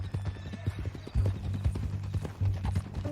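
Horse hooves clip-clopping in the Western video game Red Dead Redemption 2, a steady near rhythm of hoof strikes with a brief whinny, under low background voices.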